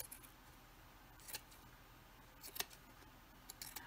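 Scissors snip through red lace fabric in a few quiet, crisp clicks spread unevenly over a faint background hiss, close by, with no speech.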